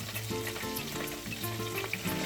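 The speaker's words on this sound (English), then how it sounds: "go ahead and dunk those pieces of mushroom in there." Mushroom pieces dropped into a hot pan fry with a steady, close sizzle over about two seconds, while bossa nova music plays in the background.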